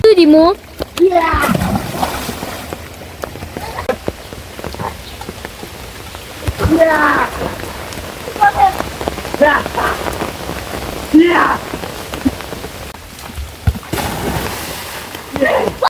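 Water splashes and churns in a village pond during play in the rain, with irregular bursts and a continuous patter. Children's voices call out over it at several points.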